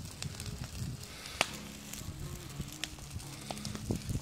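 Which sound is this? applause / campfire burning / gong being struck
campfire burning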